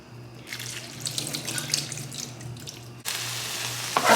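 Liquid drains from cans of light red kidney beans and an 8.5 ounce can of corn into a kitchen sink, a steady splashing pour that grows harsher and louder toward the end.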